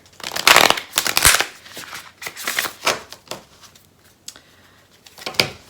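Tarot cards being shuffled in bursts of crisp riffling and flicking, loud and close, with short pauses between handfuls and no talking.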